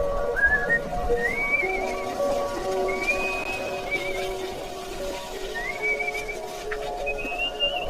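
Someone whistles a wandering tune in sliding notes while working, moderately close, over a soft background hum and faint clatter, during monsoon rain in a village in Meghalaya, India.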